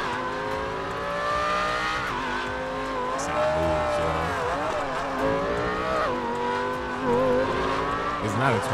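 A non-twin-turbo car engine revs in GTA 5 on a mountain road, its harmonic drone rising and falling through gear changes, steady and close, with a voice speaking over it.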